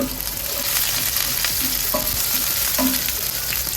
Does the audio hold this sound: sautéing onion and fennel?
yes